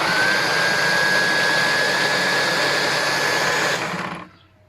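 A small electric motor of an Oleo-Mac TR 111 electric trimmer whirs at a steady, high-pitched hum, running continuously close by before winding down and stopping near the end.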